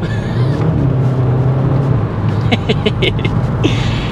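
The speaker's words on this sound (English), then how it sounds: "The DSG farts are back," A Mk5 Golf GTI engine drones steadily, then a quick series of sharp exhaust pops crackles out during a DSG gearbox shift, close and loud.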